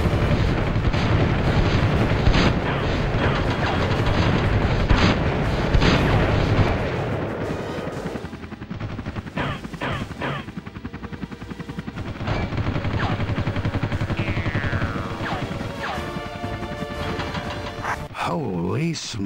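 Machine gun fire from Army Men Air Attack 2 rattles in rapid sustained bursts, with heavy booms and explosions layered over a loud, continuous battle din.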